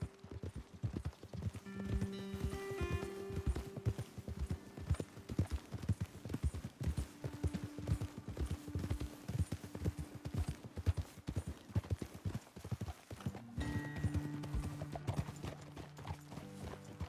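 Horses walking in Red Dead Redemption 2, hooves clip-clopping in a steady rhythm throughout, with occasional tonal game sounds layered over the hoofbeats and no talking.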